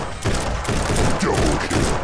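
Rapid gunfire in the shooter game Guns'n'Stories: Bulletproof: a dense, loud volley of overlapping shots and thumps in quick bursts, close and continuous across the stretch.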